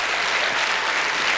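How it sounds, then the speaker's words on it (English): Conference audience giving panellists a round of applause, a loud, dense and continuous roar of clapping from a large crowd. "please give our panellists another huge round of applause"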